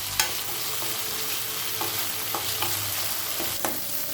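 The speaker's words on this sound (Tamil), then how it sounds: "வெண்டைக்காயை நல்லா வதக்கிக்கலாம்." Okra (ladies' finger) sautéing in a pan, a constant hissing sizzle with regular light scrapes and taps of the spatula as it is stirred, close by with no speech.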